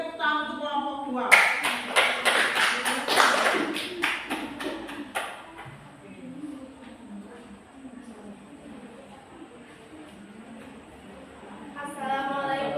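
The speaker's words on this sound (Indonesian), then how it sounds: "tepuk tangan untuk kelompok 2" Classroom clapping for a student group breaks out after a spoken prompt, a burst of several seconds of scattered hand claps up close that fades into a quiet room, with voices heard before and after.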